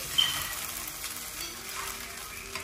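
Sago upma with peanut powder being stirred in a pan, giving a steady soft sizzle with faint scraping, close and continuous, with no voices.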